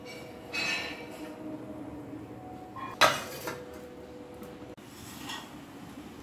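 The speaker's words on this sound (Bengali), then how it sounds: "এবার কড়াইয়ে জল গরম বসিয়েছি, তার ভিতরে একটা স্ট্যান্ড দিয়ে দিলাম। এবার একটা ফুটো থালা দিয়ে দিলাম।" A metal stand and a perforated plate are set into a wok of heating water for steaming modak, giving one sharp metallic clank in the middle and a few softer knocks, close by with no talking.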